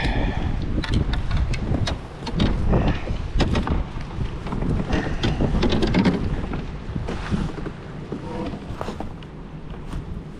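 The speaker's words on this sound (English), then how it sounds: "Here I am dealing with this wind." Gusty wind buffets the microphone beside a creek during fishing, a steady low rumble with crackling bursts and faint knocks throughout.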